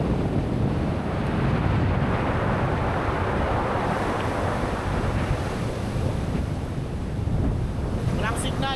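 Strong wind blowing over the open sea on a rough, rainy shore in Quezon, a loud steady roar with buffeting against the microphone and surf churning underneath, with no speech.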